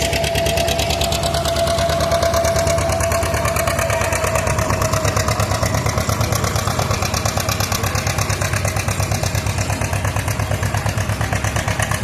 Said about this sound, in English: Cody Hooker, a 1952 John Deere Model Palmer.